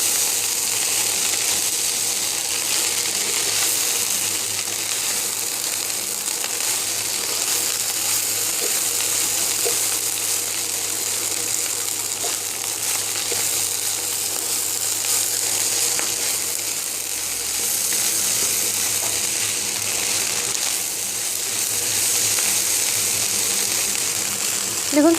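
Fried rice tossed with sauce in a hot pan gives a steady, even sizzle with faint scraping from stirring, running unbroken for the whole stretch with no talking.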